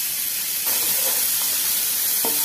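Onion and green chilli dropped into hot oil already holding cumin, mustard seeds and dried red chillies, giving a steady close hiss and sizzle that jumps louder as the pieces go in, with faint clinks over it.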